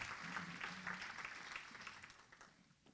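An audience at a women's empowerment breakfast applauds, a dense wash of clapping that holds steady and then slowly tapers off over a few seconds.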